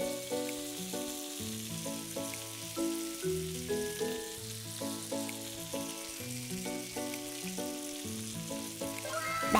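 Korean-style pork belly grills at a restaurant in Korea with a constant, close sizzle and crackle, heard beneath prominent background music.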